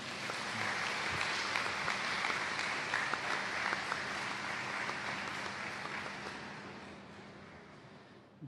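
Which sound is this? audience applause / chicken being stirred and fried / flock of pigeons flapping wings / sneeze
audience applause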